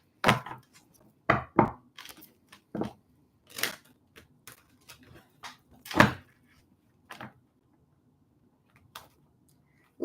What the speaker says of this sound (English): Lord, that was a terrible shuffle.